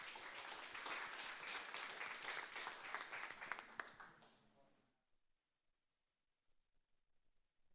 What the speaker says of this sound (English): go ahead and give a round of applause for Caleb